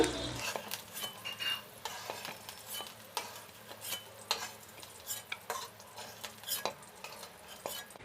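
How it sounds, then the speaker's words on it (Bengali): Capsicum for fried rice lightly frying in a pan with a little salt, a soft steady sizzle broken by repeated clinks and scrapes of a spatula stirring against the pan, fairly quiet with no talk. "এগুলো খুবই হালকা হালকা ভেজে নিচ্ছি।"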